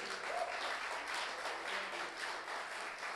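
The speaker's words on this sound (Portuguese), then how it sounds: "Dê um aplauso a Jesus por isso." A church congregation breaks into applause for Jesus during a Portuguese sermon, a dense, steady wash of many hands clapping at moderate distance for about three seconds, with no voices on top.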